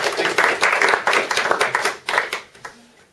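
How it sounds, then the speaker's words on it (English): A small audience gives a short round of clapping after a speaker's introduction at a business talk; dense hand claps that thin out into a few scattered claps and fade within about three seconds. "Just a round of applause, guys."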